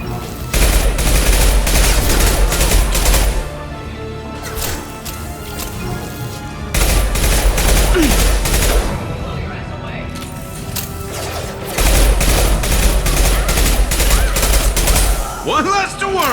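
Sci-fi assault rifle fire in a Mass Effect 2 firefight, loud sustained bursts of rapid shots in three long volleys separated by short pauses, with voices speaking between the bursts.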